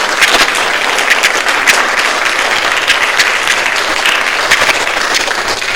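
Loud, dense applause from an audience, a steady round of clapping that carries on evenly throughout.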